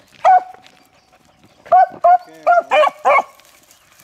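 Beagles barking and baying in a run of short, loud yelps while chasing a scent along railroad tracks outdoors, a few quick barks, a pause, then a burst of several more, with a person speaking briefly.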